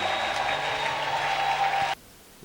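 A church congregation applauds in a dense, steady wash of clapping that cuts off abruptly near the two-second mark, leaving quiet room tone.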